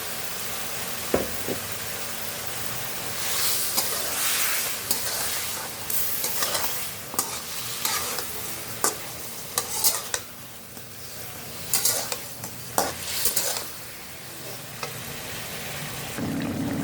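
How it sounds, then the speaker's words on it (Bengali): Koi fish frying in a pan for a home-style koi and bitter gourd curry, with steady loud sizzling and repeated stirring scrapes of a utensil against the pan throughout, no voices. "দেশি কই মাছটা দিব বড় বড়।"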